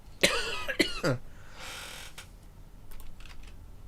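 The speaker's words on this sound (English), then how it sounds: "Hang on, I'm gonna cough." Two or three sharp coughs close to the mic, then a rustling hiss and a few faint clicks in a quiet room.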